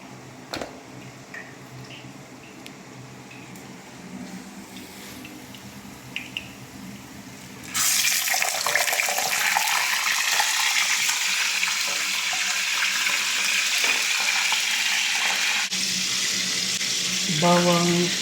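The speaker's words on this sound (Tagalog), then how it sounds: "Mainit na rin po yung ating kawali, kaya ilalagay na po natin ating isda." Fish dropped into a hot wok for ginataang papaya, giving a sudden loud, steady sizzle that starts partway through after a quieter stretch of kitchen noise and continues to the end.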